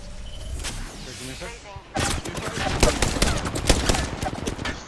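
Rapid gunfire in the battle royale video game Apex Legends, bursts of shots rising after a quieter opening, with players talking over the action.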